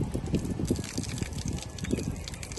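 Tap water runs steadily as spices and chicken are washed at a canal-side picnic, a soft continuous trickle and splash close by.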